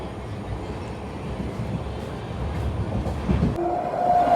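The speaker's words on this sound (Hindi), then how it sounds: "अपनी अमृत भारत एक्सप्रेस को लूप लाइन पर लगा दिया गया है और यहाँ से निकल रही है" An Amrit Bharat Express train departs along a loop line with a low, steady rumble that slowly grows louder, and brief tonal horn-like notes sound near the end.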